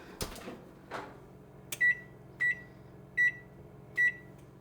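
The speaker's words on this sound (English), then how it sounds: "the timer for 10 minutes has just gone off" A kitchen oven timer goes off while snickerdoodles bake, sounding four short, evenly spaced high beeps after a couple of knocks and clatters, with no one speaking.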